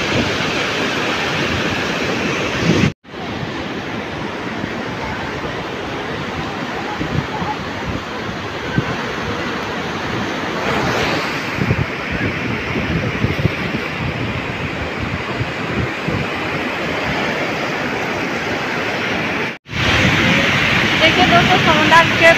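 Sea waves at Puri beach roll and wash steadily in a loud, continuous roar mixed with wind buffeting the microphone.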